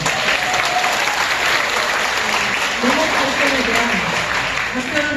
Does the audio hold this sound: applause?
yes